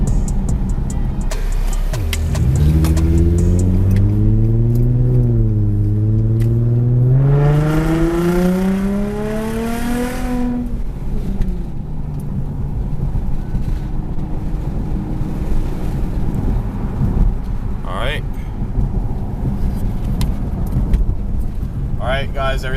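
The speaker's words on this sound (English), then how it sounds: "When I make this turn here, I'll give it a full throttle for a gear or two" An Infiniti G35 with a newly replaced fuel pump accelerates hard at full throttle, its engine note rising loud and steady before easing off, followed by road and wind noise with some talking over it.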